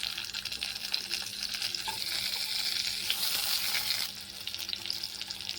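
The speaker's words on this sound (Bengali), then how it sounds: "তো এই টমেটোগুলো আমি এখন এই তেলের মধ্যে দিয়ে দিচ্ছি" Two large tomatoes, cut into pieces, sizzle in hot oil in a pan, a close, steady crackling fry that briefly swells and then eases.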